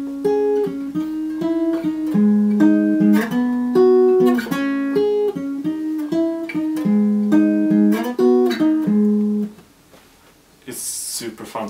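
Electric guitar in standard tuning plays a melodic riff, high on the neck. Clear, rhythmic picked notes ring out loud and close, then stop and a short burst of noise follows.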